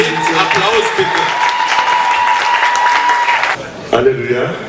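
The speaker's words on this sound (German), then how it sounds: "Avec des ovations. Applaus bitte." A church congregation at a service honoring a pastor claps loudly and steadily under a sustained voice, and the applause cuts off sharply near the end as a voice carries on.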